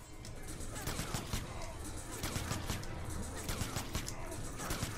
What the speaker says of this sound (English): We fired our rocket prematurely